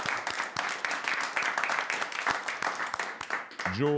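Applause from an audience at a comedy roast evening for the sponsor, brisk and moderately loud clapping for a few seconds, ending as a voice begins to speak.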